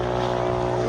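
Steady droning engine of a boat on the Konkan coast, a continuous loud hum with strong low tones filling the whole short moment without a break.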